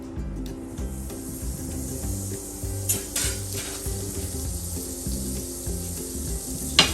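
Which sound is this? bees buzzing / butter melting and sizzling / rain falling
butter melting and sizzling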